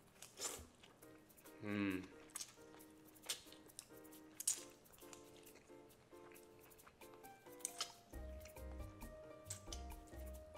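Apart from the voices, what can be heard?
eating noodles, mukbang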